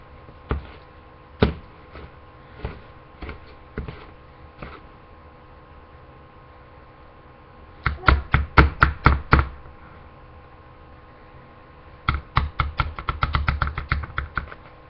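A whisk clatters against a bowl while peanut butter cookie batter is mixed, in short rhythmic bursts of quick metallic taps separated by pauses, close and clear, with scattered lighter single knocks early on.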